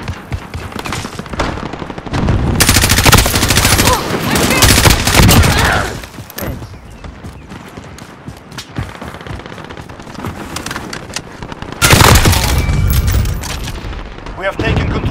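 Heavy gunfire in Call of Duty: Modern Warfare comes in loud automatic bursts with booming impacts, loudest in two long volleys, while players talk over the fighting in between.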